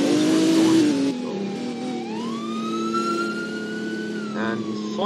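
An emergency vehicle siren in the Roblox game ER:LC wails continuously and loudly, rising and falling in pitch, with a short engine rev and a brief interruption partway through.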